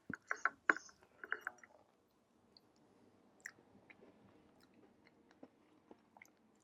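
Someone chewing home-baked apple crumble with a browned topping, a few close, crisp bites and crunches up front, then softer, quieter mastication sounds.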